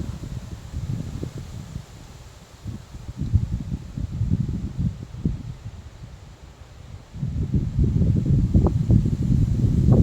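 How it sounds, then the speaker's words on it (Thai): Strong wind gusting through bean plants in a home vegetable garden, a rough low rushing that rises and falls in bursts, louder again toward the end, with leaves rustling close to the microphone. "ลมพัด ดูนะคะลม"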